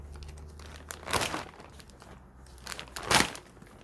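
Plastic wrapping crinkles in two loud bursts around a vintage radio as the string is cut, with quieter rustling between, close by and with no talk.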